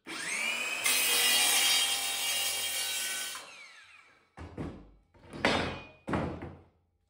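A saw cuts through OSB board into narrow strips, a steady rasping buzz for several seconds, followed by a few separate knocks and clatters of wood pieces being handled nearby.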